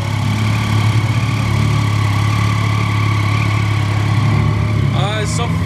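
A 2013 Triumph Street Triple 675 R naked motorcycle idles steadily at first start-up, a close, loud, even engine hum with a low rumble throughout and voices talking over it.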